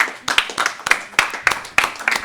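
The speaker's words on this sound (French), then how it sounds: "On peut applaudir, bien sûr." Several people clap together at a care home for the elderly, about eight sharp, fairly regular claps close by over roughly two seconds.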